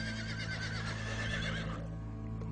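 A horse gives a long, loud whinny with a quavering, vibrato-like call that fades after about two seconds over a steady low hum.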